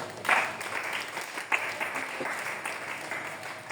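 A church congregation applauds at a Sunday worship service, giving a steady wash of clapping that stays fairly loud and close throughout, with a few sharper claps standing out.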